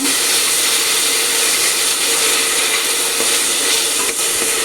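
Ingredients for a mutton curry frying in a pan, a dense, loud, steady crackling sizzle that runs without a break and no voices over it.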